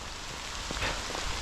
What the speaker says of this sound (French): Et il pleut depuis déjà un petit moment.